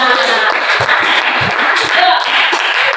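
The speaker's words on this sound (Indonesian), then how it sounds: "Tepuk tangan buat kelas kita semua" Classroom of students clapping together during an Arabic lesson, a loud, steady wash of hand claps with scattered voices mixed in.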